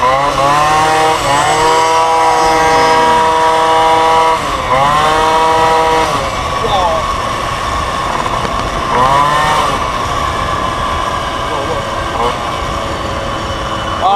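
A Honda Camino moped engine revs hard up close, its buzzing whine rising and falling through repeated throttle bursts, loud throughout, with a voice briefly audible underneath.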